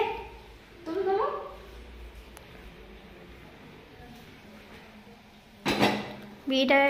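A metal lid set onto a pot of biryani being sealed with dough, giving a couple of short clanking, ringing metallic knocks close by, with quiet spoken commentary around them.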